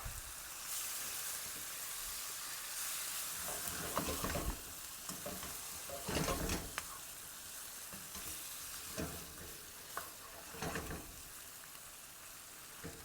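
Broccoli and seasonings stirred in a hot pan for creamy rose tteokbokki, a soft steady sizzle broken by repeated scraping bursts from the stirring, close up with no speech.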